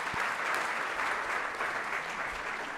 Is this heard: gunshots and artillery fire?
no